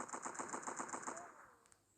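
Rapid automatic gunfire from a weapon in a French-language shooting video game, a steady burst of about ten evenly spaced shots for over a second, then a short tail and silence.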